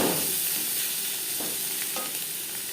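Onion and garlic fry in a pan for a chicken liver and gizzard dish, giving a steady close sizzle with a few soft stirring scrapes and no talk.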